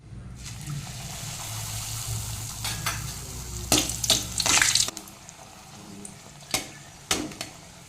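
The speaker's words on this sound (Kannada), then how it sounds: "ಇನ್ನು ಇವಾಗ ಇದನ್ನು ಫ್ರೈ ಮಾಡ್ತೀನಿ" Small homemade puris frying in hot oil, a steady bubbling hiss running under several sharper splashes and crackles as the dough pieces are added and turned, fairly close and moderately loud.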